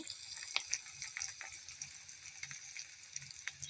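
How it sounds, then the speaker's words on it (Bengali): Onions frying in a pan for a cauliflower and potato dish, a faint, thin sizzle with scattered soft clicks and scrapes of stirring. "পেঁয়াজটা লাল করে ভেজে নিই বন্ধুরা, তারপরে বাদ বাকি মশলাগুলো দিব।"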